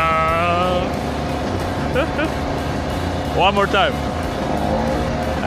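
A gasoline engine on a hybrid wheelchair runs steadily and rises in pitch as it accelerates, close and fairly loud, with someone talking and whooping over it.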